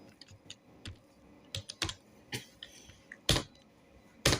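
Computer keyboard typing in accounting software, close and crisp, with scattered single keystrokes and short clusters of taps, including a few louder sharp key presses near the end.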